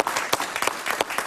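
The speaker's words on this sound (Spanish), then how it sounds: "Un aplauso para ella," A television studio audience applauds a guest, a short burst of dense clapping from many hands that holds steady throughout.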